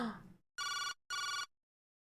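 A telephone rings twice in the Jake Hunter detective video game, two clean electronic bursts separated by a short gap, following a brief fading tone and ending in silence.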